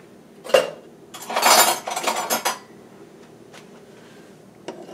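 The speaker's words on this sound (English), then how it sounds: "Now, I'm going to get the spoon." A spoon clinking and scraping against dishes while cooking, a few sharp metallic clinks followed by a cluster of rattling scrapes, then faint scattered taps in a quiet kitchen.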